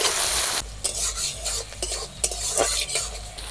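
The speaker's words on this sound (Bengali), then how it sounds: "কাঁচা লঙ্কা পেঁয়াজ আর টমেটো ভালো করে ভেজে নিয়েছি" Chopped onion, green chili and tomato sizzle in hot oil in a pan. Close, steady frying hiss with repeated scraping strokes of a spoon stirring, and no voices.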